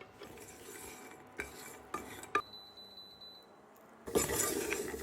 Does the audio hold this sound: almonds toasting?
yes